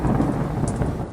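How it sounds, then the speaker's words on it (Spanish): A thunderstorm sound effect: loud, close rumbling thunder over a dense, steady wash of heavy rain, with no voices. "La tormenta duró toda la noche."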